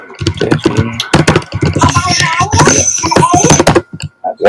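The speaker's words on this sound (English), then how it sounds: "That's my speed typing up here." Rapid, dense clicking of a computer keyboard being typed on quickly, a continuous flurry of keystrokes up close.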